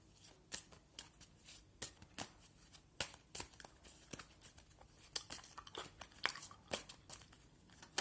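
Tarot cards being shuffled in a quiet ASMR setting, a soft series of crisp riffling snaps and slides, close and delicate, repeating irregularly with no talking.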